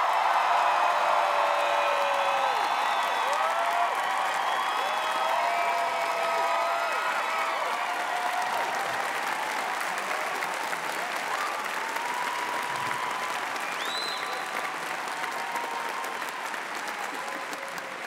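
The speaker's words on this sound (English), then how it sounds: "please make huge noise for James Martin" An audience in Belfast welcomes a speaker with loud, sustained applause and some cheering. The clapping continues throughout and eases slightly toward the end.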